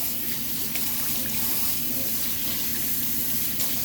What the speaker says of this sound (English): We're going to wake it up with some water